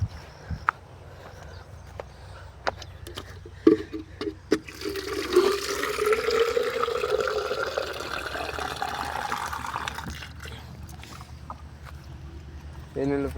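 Water running into a container set out for dogs outdoors, a steady rushing fill that builds midway and lasts several seconds, with scattered knocks and handling clatter around it and someone speaking in between.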